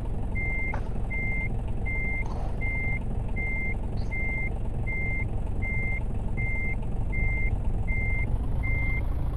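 A truck in Euro Truck Simulator 2 backs up with a steady series of about a dozen evenly spaced reversing beeps over a low, constant engine rumble.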